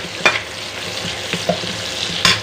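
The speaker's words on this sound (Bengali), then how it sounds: "পেঁয়াজটা ভেজে নিচ্ছি" Onions fry in a pan with a loud, close sizzle, punctuated by several sharp spatula scrapes and knocks against the pan, with no one speaking.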